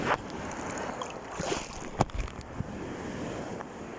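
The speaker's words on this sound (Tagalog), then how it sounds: "Ang lakas ng alon mo, baby!" Powerful ocean waves roll and break nearby under buffeting wind, a continuous wash of surf punctuated by a couple of sharper splashes.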